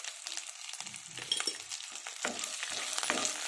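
Tempering spices with turmeric fry in a pan, a soft, close, continuous sizzle with occasional stirring scrapes that grows slightly louder toward the end.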